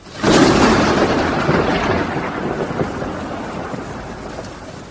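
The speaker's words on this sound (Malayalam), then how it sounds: "എന്തൊരു മഴയാ ഇത്." Heavy rain pours in a dense, loud wash, with a deep thunder rumble swelling at the start and slowly fading as the downpour continues alone.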